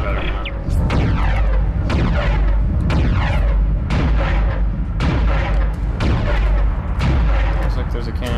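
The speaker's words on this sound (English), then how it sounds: "there's a cannon over there too." A cannon in the video game Dead Space fires again and again, with loud booming blasts about once a second, each trailing off into a rumbling echo.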